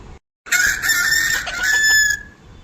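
A rooster crow played back from a mobile phone speaker gives one thin, tinny, drawn-out call lasting about a second and a half after a brief silence.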